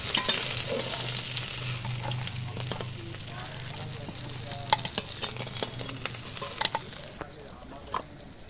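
Tilapia fish frying in oil, a dense continuous sizzle with scattered crackles and pops, close and fairly loud, settling quieter near the end.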